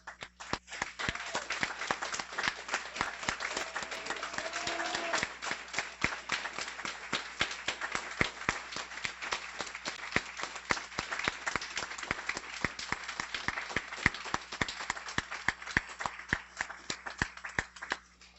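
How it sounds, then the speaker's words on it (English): Steady applause fills a graduation ceremony hall for guide dog puppy raiser volunteers: dense, continuous clapping from a large crowd, with sharp individual claps standing out throughout. "please stand so we can give you a round of applause for all your hard work"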